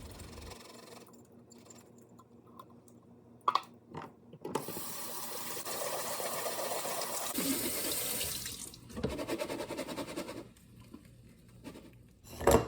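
Water runs steadily from a tap over chickpeas in a sink strainer for several seconds, with a few clunks and rattles of the strainer before and after the flow.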